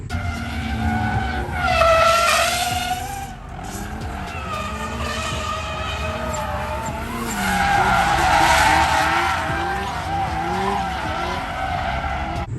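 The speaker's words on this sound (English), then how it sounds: "You're just gonna light them up, and this car just lights them up so easy." A turbocharged Mazda Miata with a welded differential drifts, its tires squealing loudly in long rising and falling screeches over a revving engine, close by and without talk.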